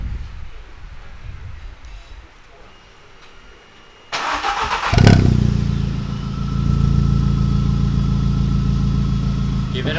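Volkswagen Polo Vivo with a Viper aftermarket exhaust cold-starts after a quiet stretch of background noise, cranking into a loud, sudden catch and a brief flare before settling into a steady, throaty idle close by.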